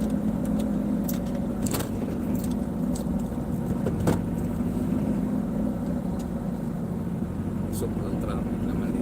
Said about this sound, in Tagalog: Sobrang traffic naman dito.